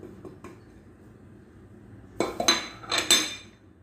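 Breadcrumbs from oven-toasted bread and poppy seeds stirred together in a bowl, giving a few light scraping clinks of a spoon against the dish after a quiet stretch, close and moderately loud.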